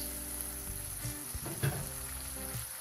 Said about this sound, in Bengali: এখন এখানে আমি দিয়ে দিচ্ছি চিংড়ি মাছ